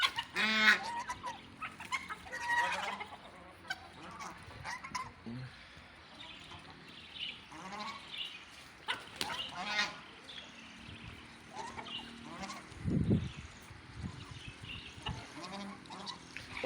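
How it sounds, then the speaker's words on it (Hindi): Desi chickens and roosters on a poultry farm alongside Aseel and Brahma birds, with assorted squawks, clucks and one loud crowing call near the end over low farmyard noise, with some speech at times. "ये देसी मुर्गे हैं और ये देसी मुर्गा है।"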